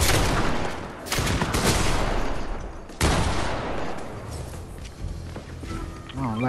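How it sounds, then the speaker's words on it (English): Gunfire from a shotgun in the Fortnite video game, with a few sharp blasts roughly a second apart over busy game sound, loud and close. "I don't like that shotgun."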